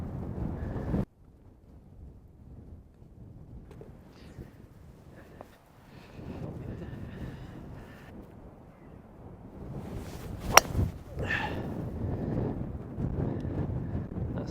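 Wind buffets the microphone on a Scottish links golf course, a low, uneven rumble that comes in gusts and lulls, with a few brief sharper bumps.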